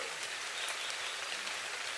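Steady rain hisses in the video game ARK, a dense, even patter of drops falling on surfaces throughout, with no voices.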